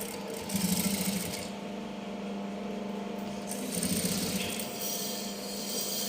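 A sewing machine stitches a long frock, running as a steady, close mechanical whir with faint rhythmic ticking that swells slightly in two bursts.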